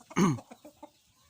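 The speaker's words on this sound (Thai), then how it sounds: "อามาชมไก่นมนะครับ" A six-month-old young chicken gives one loud squawking cluck followed by a few softer, quick clucks nearby.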